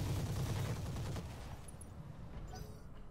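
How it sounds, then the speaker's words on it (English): Mech weapons all firing at once in the Roguetech battle game: a dense, loud barrage of overlapping gunfire and blasts that rumbles for about a second, then tapers into a lower sustained roar with scattered crackles. "Firing everything."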